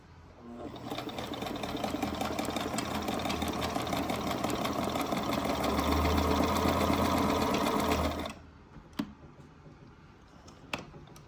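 A vintage Kenmore 1040 sewing machine stitches a wide zigzag, a steady fast mechanical whirring and ticking held for about eight seconds before it stops, leaving a few faint clicks and near silence.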